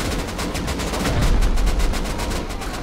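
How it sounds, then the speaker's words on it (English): Rapid gunfire from the video game Rust as players shoot at base walls, a dense fast string of loud shots throughout with no break. "Shoot it. Shoot the walls. From the outside."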